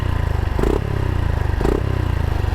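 A Honda Revo motorcycle's exhaust burbles at close range with a low, pulsing rhythm, and two short throttle blips rise above the steady idle.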